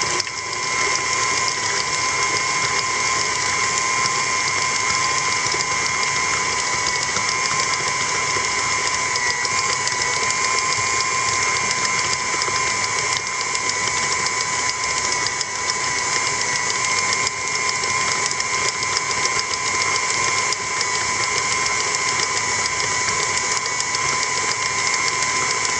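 An electric stand mixer beats choux pastry dough after the eggs go in, holding a loud, steady mechanical whir and hum at close range for the whole stretch, with no talking.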